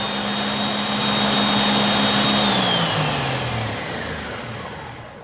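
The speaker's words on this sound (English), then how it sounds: "It's a pretty loud blender too." A Vitamix E320 or Ninja Foodi blender roars at max speed with a loud steady motor whine, then the pitch drops as it winds down and fades. No one speaks.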